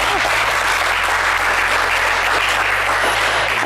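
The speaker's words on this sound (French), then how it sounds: "applaudissez-le très fort" A TV studio audience on the French show Le Coffre Magic claps loudly and steadily, a thick crowd applause with a low hum underneath and no speech.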